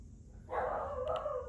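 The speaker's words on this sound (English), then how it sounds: "There goes my dog again." A dog barks once, a short, fairly faint bow-wow heard indoors and a little distant, alone with no talking.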